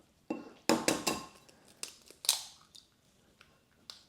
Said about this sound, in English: One hand crack the egg